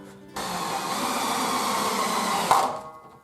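A power drill with a larger bit drives screws while installing a garage storage tool organizer, whirring steadily for about two seconds before winding down, close and loud with no talk.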